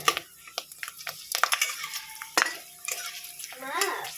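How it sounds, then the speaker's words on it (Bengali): Papad frying in a pan in a home kitchen, heard as a light crackle beneath irregular clinks and scrapes of a utensil against the pan, fairly close and moderately quiet. "দুটো পাঁপড় ভেজে দিই"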